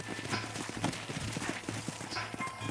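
Horses clip-clop in a Red Dead Redemption game scene, a rapid, steady run of hoofbeats close by with no talk over them.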